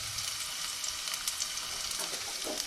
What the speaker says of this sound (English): pot is really hot, and the first thing that'll go in is the garlic. Pop in the garlic.